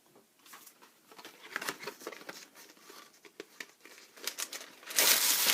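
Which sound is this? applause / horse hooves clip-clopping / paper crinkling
paper crinkling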